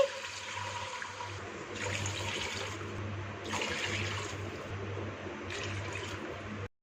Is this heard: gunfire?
no